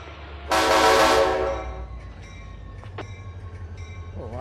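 A train horn sounds in the Run 8 train simulator game on an ATSF local, one loud, harmonically rich blast of about a second that fades out. A low engine rumble and faint clanks continue beneath it afterward.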